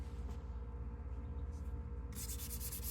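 Sandpaper rubs lightly over a small wooden Valentine door hanger from a craft kit, a soft, steady scratching close by under a low background hum, with a brighter burst of rubbing near the end.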